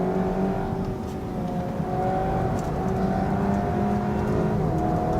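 A Seat Leon Cupra 280 drives through a corner, its engine heard from inside the cabin as a loud, steady droning hum with a slightly wavering pitch and no speech.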